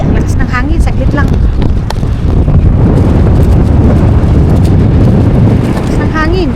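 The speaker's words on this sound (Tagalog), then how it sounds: "Ang lakas ng hangin, saglit lang." Strong wind buffets the microphone during rain outdoors, a loud, continuous rumbling roar that nearly swamps the recording, with a person speaking over it.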